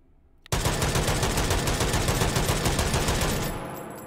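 A Lahti M26 machine gun fitted with a muzzle brake fires in the H3VR video game: one loud, sustained burst of rapid automatic fire that starts abruptly after a short quiet moment and tails off near the end.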